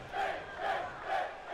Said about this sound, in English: The crowd chanting Finn.